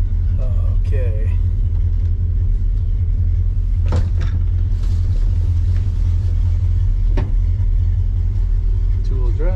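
A CUCV military truck, driven for the first time in three and a half years, gives a steady low engine rumble heard from inside the cab while people talk over it.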